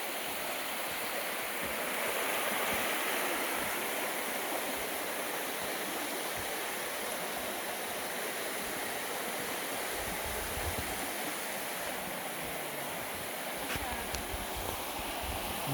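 Water rushes steadily at Panther Creek in North Georgia, a broad, constant roar of stream and falls heard close by for the whole stretch, with faint low rumbles of wind or handling near the end.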